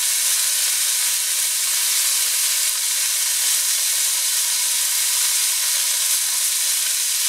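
Garlic sizzles and fries in a hot pan alongside browned sausages, a steady, close, bright hiss that runs unbroken at an even level throughout, with no voices.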